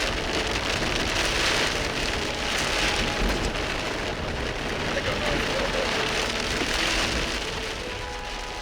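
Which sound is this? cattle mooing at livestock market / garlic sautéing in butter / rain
rain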